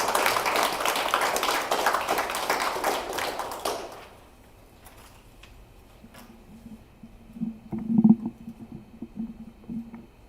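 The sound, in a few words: audience applause at a poetry showcase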